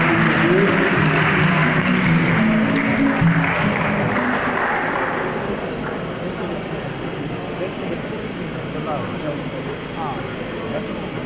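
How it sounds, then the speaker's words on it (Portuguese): Wedding guests applaud during a church ceremony, a dense sustained clapping from a crowd that gradually softens, with voices mixed in. "Palmas!"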